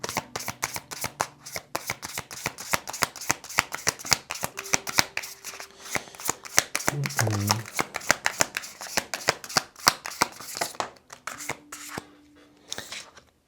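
Tarot cards are shuffled by hand in rapid, crisp riffling bursts, close and steady throughout, with a faint voice murmuring briefly underneath.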